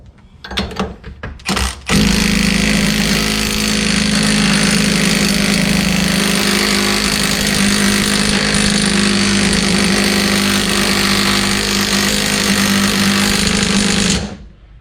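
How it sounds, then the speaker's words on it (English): A power drill spins a reamer through a wheel stud hole on a Cobra Daytona build, making a loud, continuous grinding whir for about twelve seconds after a brief start, then stopping abruptly. "So now we'll start reaming the next hole"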